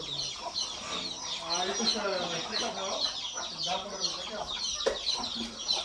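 Free-range desi chickens cluck at a village farm raised alongside cattle, a busy overlapping chorus of close, repeated clucks that runs steadily throughout, with a faint human voice mixed in.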